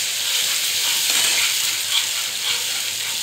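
Egg korma masala with cashew paste being stirred in a pan, giving a steady close sizzle broken by the soft scrape of a spoon through the thick mixture, with no talk.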